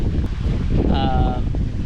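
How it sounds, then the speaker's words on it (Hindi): Gusty wind rushes steadily across the microphone in Sugar Mill park, with a brief chirp-like bird tone rising midway through. "परिंदों की आवाज़ें आ रही हैं और हवा चल रही है।"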